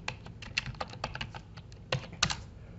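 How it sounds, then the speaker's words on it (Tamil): Typing on a computer keyboard, an irregular run of close, light key clicks with short pauses and a couple of firmer taps near the end. "அப்போ ஸ்ப்ரெட் ஷீட் என்று டைப் பண்ணிக்கொள்ளுங்க"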